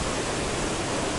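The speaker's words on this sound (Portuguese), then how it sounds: "Essa belíssima cachoeira." A waterfall in Guapimirim, Brazil, pours as a steady, dense roar, close and continuous, with no voices over it.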